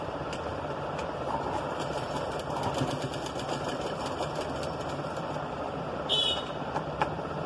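A sewing machine runs steadily up close, stitching piping onto a boat neck, a continuous mechanical whir with a faint rhythmic ticking and a brief high squeak near the end.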